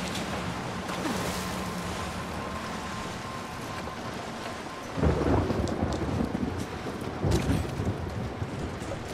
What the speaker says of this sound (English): Nice thunderstorm.